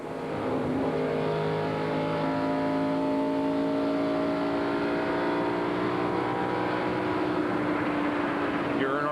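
NASCAR stock car onboard at Indianapolis in the 1997 Brickyard 400, engine loud and close with rising and falling rev tones as throttle lifts and reapplies, under race commentary.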